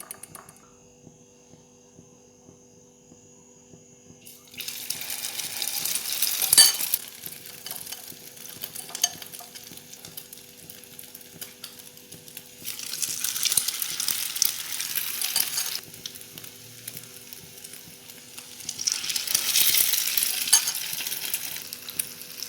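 Egg-coated beef shami kebabs fry in a pan with a soft, quiet sizzle that swells in three bursts as pieces are added or turned, a faint electrical hum running underneath and a brief clatter of a utensil.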